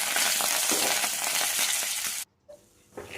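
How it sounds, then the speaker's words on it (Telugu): Green chillies and curry leaves fry in hot oil in a pan with a loud, steady sizzle that cuts off abruptly, leaving near silence and a few faint clinks. "బాండి పెట్టి ఆయిల్ వేసి పచ్చిమిర్చి కరివేపాకు వేయించుకోవాలండి."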